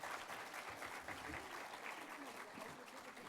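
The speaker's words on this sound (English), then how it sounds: "Let's have a round of applause again for Dr." At a closing keynote session, an audience gives a full round of applause, a dense and sustained roar of many hands at moderate volume, with faint voices mixed in.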